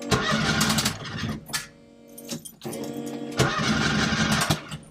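A Ford ST170 engine fitted in a Mk1 Escort cranks hard, churning in two loud bursts around a brief pause as it tries to fire without catching, close up and with no talking.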